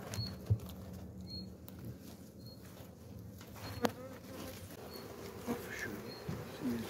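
Steady buzzing of many honey bees hovering close around a hive, a continuous insect drone with a few soft taps and knocks over it.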